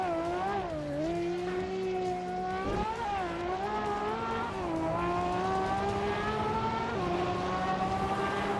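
Race car engines in a racing video game, with a 2009 Pagani Zonda among the field, a steady droning whine that rises and dips through gear shifts, constant and fairly close, with no talk.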